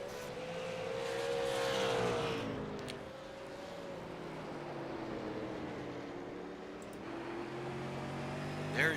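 A race car in a late-race lap on an oval track, heard from onboard as a steady engine drone with tonal whine rising and falling over continuous road and wind noise.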